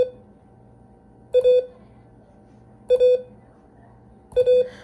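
Morse code letter A keyed three times as a steady electronic tone, each short-long dot-dash pair separated by long pauses, clear and alone over a faint hum.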